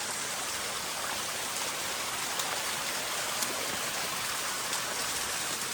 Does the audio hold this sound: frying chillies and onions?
no